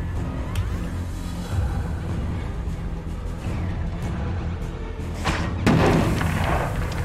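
In the We Happy Few video game, a thrown banger and combat produce dull thuds and scuffles, then a sudden loud burst near the end. The background noise is busy throughout.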